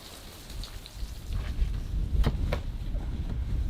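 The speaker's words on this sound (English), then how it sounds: "it was a pleasure listening to the rainfall on the roof of the camper" Steady rain drums on the roof of a camper during a nighttime desert storm, a dense continuous patter with a few sharper drops and faint distant rumbles, no voices.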